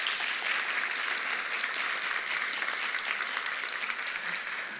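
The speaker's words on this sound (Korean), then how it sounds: "박수로 환영하도록 하겠습니다." A church congregation applauds to welcome visiting missionaries during a worship service, producing steady dense clapping that fills the room at a constant level for the whole stretch.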